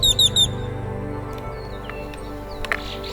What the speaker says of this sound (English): I woke up to a beautiful morning with the most amazing birds singing in the trees above my tent